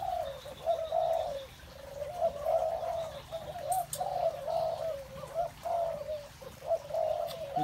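Spotted doves cooing, young birds kept in an enclosure, giving repeated soft, low coos in a steady rhythm of phrases, fairly close, with faint chirps in the background and no voices.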